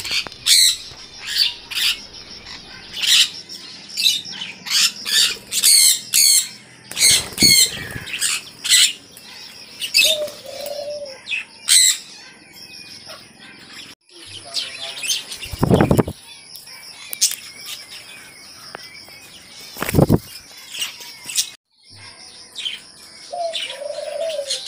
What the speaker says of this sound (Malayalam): ഇത് സൺകണോറിൻ്റെ കുട്ടിയാണ്.